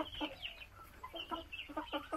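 Chickens cluck in short, irregular bursts at moderate distance over a quiet outdoor background, several soft clucks spread across the moment.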